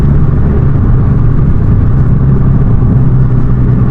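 A Volkswagen Golf GTI Mark 5 drives with a steady, moderately loud engine drone and road rumble that holds constant throughout.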